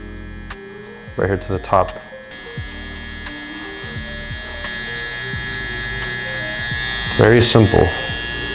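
A Saber hair clipper with its lever closed buzzes steadily while cutting a taper fade at a barbershop, a continuous electric hum running under a voice as he talks throughout.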